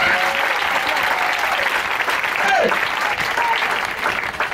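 A church congregation applauds steadily throughout a Sunday service, a loud, dense wash of clapping that holds at a constant level with a few voices mixed in.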